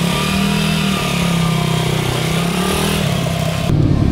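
A gifted motorcycle engine runs loud and close, its steady mid-pitched drone holding and rising into revs, then it shifts sharply near the end. No one speaks.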